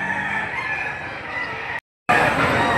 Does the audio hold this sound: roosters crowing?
yes